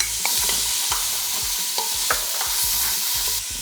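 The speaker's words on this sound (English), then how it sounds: "we're going in with a little bit of oil in our pressure cooker. And we're going to add the onions." Onions and ginger sauté in hot oil in a pressure cooker, sizzling continuously while a spoon scrapes and taps the pot in quick, regular strokes, close and loud with no voices.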